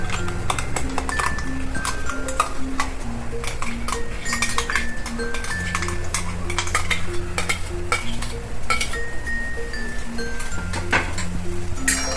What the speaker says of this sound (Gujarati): પછી આપણે આ જે પેસ્ટ કરી છે ને ડુંગળીની કાજુની બાફીને એ નાખી દઈશું આપણે.